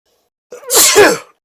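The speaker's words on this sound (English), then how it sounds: "now you just noticed I just sneezed" A single sharp sneeze, close and loud, with a brief breathy intake before the burst, then silence.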